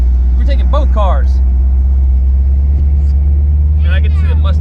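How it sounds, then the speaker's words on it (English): A low, steady engine rumble from a 1986 Ford Mustang GT driving dominates throughout, heard from inside with voices talking over it at the start and end. "And I get to see the Mustang driving"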